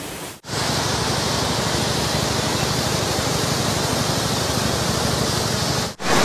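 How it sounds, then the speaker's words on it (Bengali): Changey Falls near Pelling, water plunging from a great height, makes a steady, loud, unbroken rushing roar close by, with two brief dips in level, no one talking. "অনেক উঁচু থেকে জল পড়ছে।"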